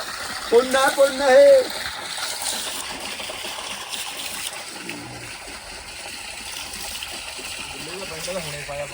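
In summer heat, water gushes and splashes as it is poured, partly by bucket, into a maize field, a continuous wash running under voices talking nearby.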